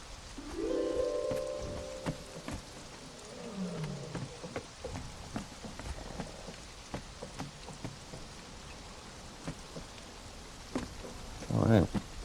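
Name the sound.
rain in the video game Conan Exiles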